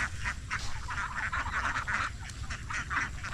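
Ducks being herded in a flock, loud overlapping quacking in repeated bursts close by, continuous over a low rumbling background.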